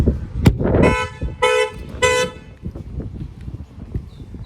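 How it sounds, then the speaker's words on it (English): A sharp smack on a back window, then a 2020 Mercedes E350 factory alarm blares in repeated harsh electronic tones, three bursts about half a second apart, followed by quieter street noise. "I'm going to smack this back window, and that will fire off the alarm"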